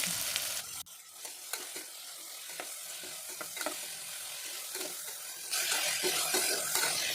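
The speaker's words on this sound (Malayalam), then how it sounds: "ഇനി ഇതിലേക്കൊരു വലിയ സവാള നേർമയായിട്ട് കട്ട് ചെയ്തിട്ട് അതും കൂടി ചേർത്ത് കൊടുക്കാം" Thinly sliced onion fries in coconut oil with cloves, cinnamon and cardamom in a pan for beef kurma, a continuous close sizzle broken by scraping stirs, and the hiss swells louder toward the end.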